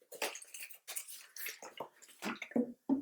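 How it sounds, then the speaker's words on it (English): Surgical spirit splashes and gurgles in short bursts as it is poured onto a surface nearby, with brief pauses between pours. "will just pour some spirit on the surface"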